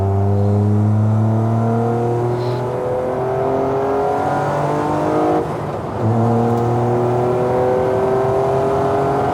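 Hydrogen-engine Toyota Corolla race car on slick tires, about 300 horsepower, its engine loudly revving up through rising gears with a brief dip at a shift, heard close from inside with no talking.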